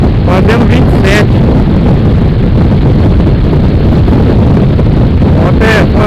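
A motorcycle on the road, buried under loud, constant wind buffeting on the microphone, a harsh roaring rush with a few brief gusty bursts.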